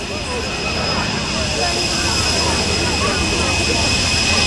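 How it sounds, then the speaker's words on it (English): Transport aircraft in Berlin airlift-era markings make a low fly past, giving a loud, steady, broad engine roar that holds for the whole stretch with no break. "we'll get a fly past of transport aircraft"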